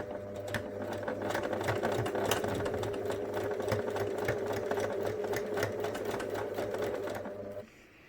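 Sewing machine stitching a seam on a fabric bear, a steady rapid mechanical whirr with fine clicking needle beats running continuously, then stopping abruptly near the end, close and without talking.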